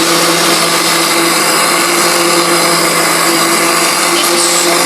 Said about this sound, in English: So let me blend this. Let me blend this first.